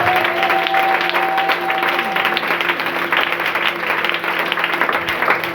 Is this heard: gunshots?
no